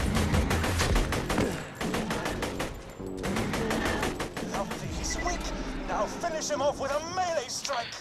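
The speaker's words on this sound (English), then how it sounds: "I'm just gonna shoot them" Rapid gunfire from shooting enemies in Borderlands 2, dense bursts of automatic shots hammering close and loud, interrupted briefly and then resuming, with game effects and voices mixed in toward the end.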